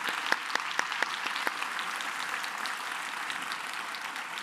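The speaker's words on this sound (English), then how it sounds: "Let's give a warm round of applause to the panel." Warm applause from a conference audience for a panel on carbon reduction, a few sharp opening claps swelling into a steady, even clapping that continues for several seconds.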